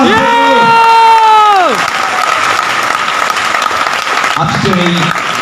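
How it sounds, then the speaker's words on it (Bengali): An audience applauds at a tenth-anniversary celebration and bike achievement program: dense, loud clapping and crowd noise, with sustained amplified tones or voices at the start and a brief reprise near the end. "আরো জোরে করতালি আশা করছি আমাদের সকল উপস্থিতির কাছে।"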